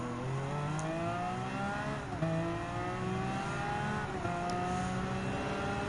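A Lamborghini Aventador's V12 engine in Gran Turismo 7 climbs steadily through the revs, dipping briefly at each gear shift, a continuous high-pitched engine note with no voices.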